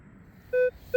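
A metal detector sweeping a park baseball field gives two short electronic tones, one held briefly and another starting at the end, over quiet ground noise.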